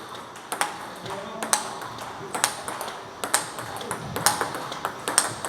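A table tennis ball strikes a paddle faced with XIOM Omega 7 China rubber in a quick series of sharp, crisp pings, irregularly spaced and fairly close, with a soft room background between hits.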